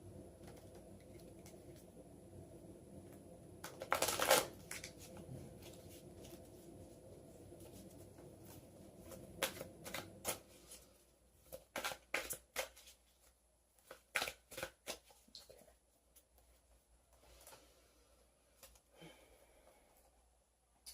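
Santa Muerte tarot cards shuffled by hand in a quiet room: one burst of riffling near the start, then a series of short, crisp card flicks and snaps spaced irregularly, close and fairly soft.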